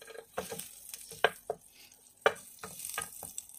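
Butter sauce for shrimp kofta sizzles softly in a pan while a utensil stirs it, with several sharp clinks and scrapes against the pan standing out over the faint frying hiss.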